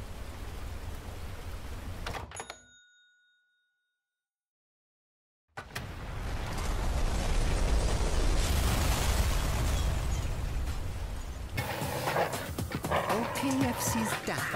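A dog in the video game Blue Estate barks and whimpers amid game effects, with a sudden dropout to silence midway, then loud rumbling action noise and game voices resuming.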